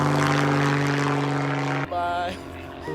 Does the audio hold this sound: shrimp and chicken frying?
no